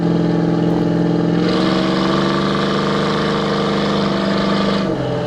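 A 1973 Plymouth Cuda's loud engine drones steadily as the car drives, its pitch rising briefly as it speeds up, with no voices over it.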